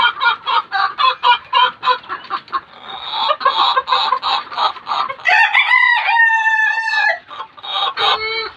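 Egyptian Fayoumi chickens clucking in a rapid, steady series, then a rooster lets out a loud, close crow with sustained harmonic notes, followed by a few more clucks.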